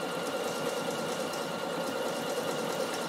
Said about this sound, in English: I'm going to let the machine sew by itself